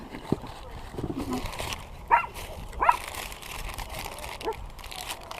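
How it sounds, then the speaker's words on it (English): A few barks from nearby neighborhood dogs pop up in short single bursts amid rustling and a speaking voice in the background. "I got neighbor's dogs running all over here"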